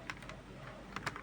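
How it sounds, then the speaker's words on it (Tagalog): Plastic keycaps being pried off a computer keyboard during cleaning, giving a few short sharp clicks and snaps at irregular intervals, close and fairly quiet. "all you need to do to clean your keyboard is to remove all the keycaps on your keyboard like this"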